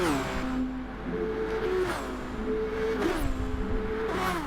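A Formula racing car engine screams loudly, its pitch climbing and dropping repeatedly through gear changes as it speeds along.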